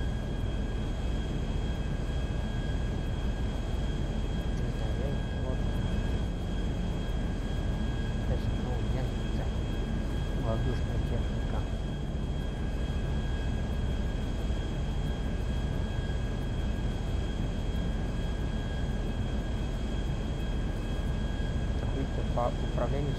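In GTA 5, a small airplane's engine holds a continuous steady drone with a faint high whine, running evenly throughout with a voice talking over it.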